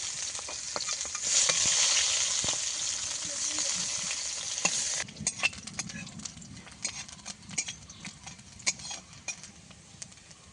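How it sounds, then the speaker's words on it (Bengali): Onion hits hot oil for tempering, crackling into a loud sizzle for several seconds, then settling into a quieter fry with sharp, close clinks and scrapes of stirring. "পেঁয়াজ দিয়ে দেবো ফোড়ন।"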